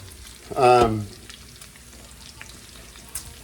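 Bacon frying in plenty of oil in a stainless steel pan: a steady, quiet crackle and sizzle throughout, close by, with a short spoken voice near the start.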